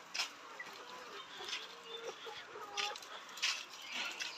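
A fresh batch of caged laying pullets on a poultry farm, clucking and calling in a soft, busy chorus with short repeated cackles over a constant low background hum.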